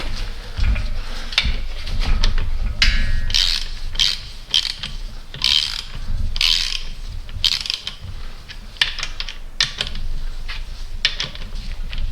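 A torque wrench tightens connecting rod bolts during an M113 engine rebuild, giving a repeated series of close ratcheting clicks and metallic mechanism sounds over a steady low rumble, with no talk.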